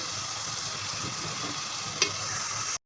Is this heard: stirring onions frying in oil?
yes